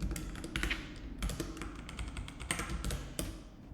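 Rapid irregular keystrokes clatter on a computer keyboard close up, with clustered bursts of taps and brief pauses while coding Python, no voices.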